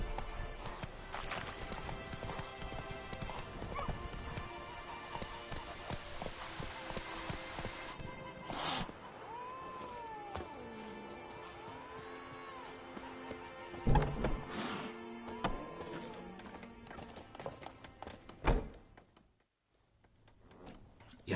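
Horse hooves clip-clopping steadily on the ground in the Witcher 3 video game, with occasional whinnies and snorts over music, a brief pause near the end, then a faint voice.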